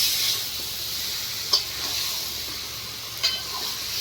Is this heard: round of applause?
no